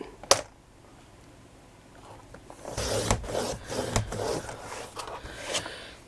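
Cutting through material for a 3.5-inch-wide book cover, a sharp snap followed by a few seconds of steady rasping, scraping strokes close by.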